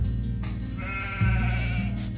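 Sheep in the strategy game Age of Empires II bleat in a short wavering call over a steady low game background, clear and close, with no talk.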